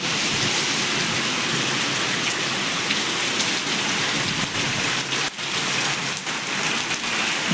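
Heavy rain pours down in a dense, unbroken roar, a steady hiss of drops striking surfaces close by with no voices.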